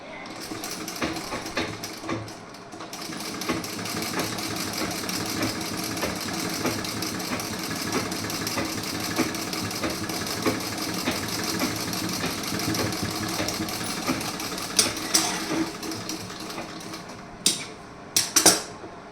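A sewing machine stitches a piece-style blouse with a continuous whirring, rapid needle chatter close by, broken by a few short pauses and clicks near the end.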